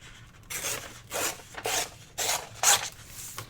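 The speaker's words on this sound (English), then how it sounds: "I'll tear it right there maybe" Paper torn by hand for a handmade tag journal, five short ripping bursts with brief pauses between them, close and fairly loud in a quiet room.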